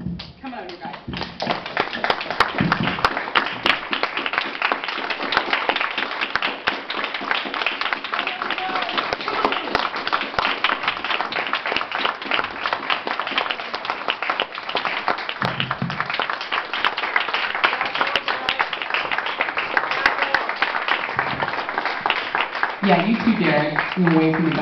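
A crowd claps and cheers for campaign volunteers at a volunteer celebration, with loud, dense, continuous applause filling the room for over twenty seconds while voices carry through.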